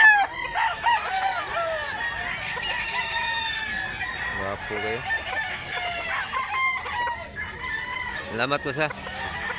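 Roosters at a chicken market in Mantalungon, Barili, Cebu crow and cluck repeatedly, fairly close, with a sharp crow near the end, while someone speaks briefly over the birds.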